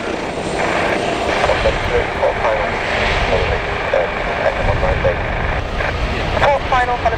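A single-engine Cessna light aircraft on final approach at Gloucester Airport gives a steady engine drone that runs through the whole stretch, with voices talking over it.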